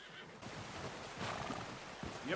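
A horse in the Red Dead Redemption 2 video game gives a short whinny, with hoof clip-clop and low game ambience behind it. The sound is moderately close and quiet.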